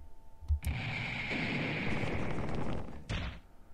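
A video game explosion in a fantasy adventure about twin mages sounds as a loud, roaring blast lasting about two and a half seconds, then a short second burst, with no speech.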